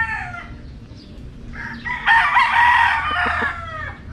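A rooster crows once on a backyard farm, a loud drawn-out call rising and holding before trailing off, with other chickens clucking faintly around it and no talking.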